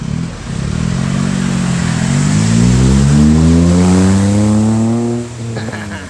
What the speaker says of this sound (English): That car sounds like rice.